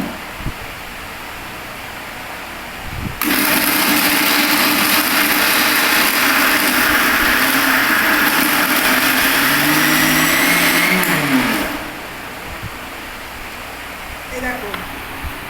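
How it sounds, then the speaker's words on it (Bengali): A mixer grinder blends soybean into a paste, starting abruptly into a loud steady whirring roar that runs about eight seconds and then winds down, with quieter kitchen sounds around it. "এবার মিক্সির মধ্যে এবার পেস্ট করতে দিয়ে দিচ্ছি"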